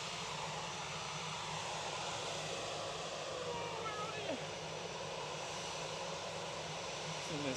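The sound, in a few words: aircraft at Manchester Airport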